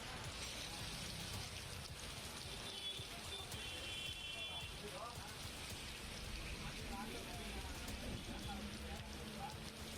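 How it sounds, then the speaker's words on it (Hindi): Steady monsoon rain falls continuously on surfaces outdoors, a dense, even hiss with scattered drops, fairly faint and distant, with no clear talk over it. "तो देखिए यहाँ पर लगातार बारिश का सिलसिला जारी है।"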